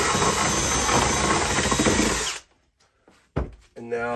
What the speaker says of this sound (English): I kind of cleaned it up with a drill bit.